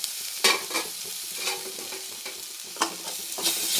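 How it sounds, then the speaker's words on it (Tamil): Curry leaves sautéing in oil in a pan for Kerala-style kadala curry, a soft steady sizzle broken by a few clattering stirs of a spoon against the pan, close and without talk. "இதில் கருவேப்பிலை ஆட் பண்ணிக்கலாம். நல்லா பொன்னிறமாக வதங்கட்டும்."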